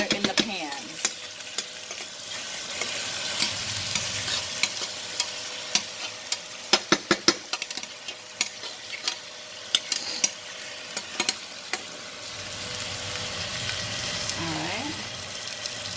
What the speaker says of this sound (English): And add some butter in the pan.